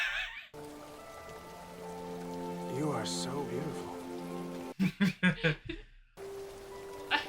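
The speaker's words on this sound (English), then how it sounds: "I love the rain that doesn't wet your hair." Rain falls steadily in a movie scene, a soft continuous patter under music and a spoken line, with a brief louder burst of effects near the end.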